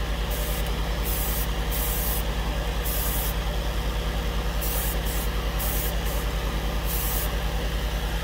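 An airbrush sprays Tamiya lacquer paint, a loud continuous close hiss with a steady compressor hum beneath it and brief pulses where the trigger opens and closes.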